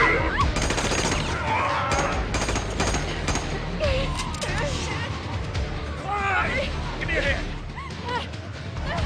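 Rapid bursts of gunfire from soldiers shooting at zombies in Las Vegas ring out continuously, dense and loud, mixed with shouting voices, crowd noise and a barking dog throughout.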